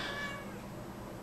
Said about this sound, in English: Oh, he meowed